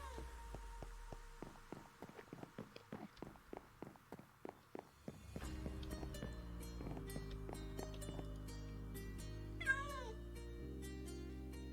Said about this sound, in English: Meow to you too.